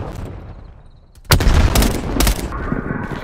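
A sharp, close blast from a thrown frag grenade in a Call of Duty: Black Ops Cold War multiplayer match, erupting suddenly after a quiet stretch and followed by a second crack and a rumbling tail.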